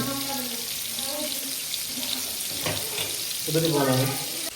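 Bitter gourd sizzles and crackles in hot oil in a home kitchen, a steady frying hiss close up, while someone speaks over it.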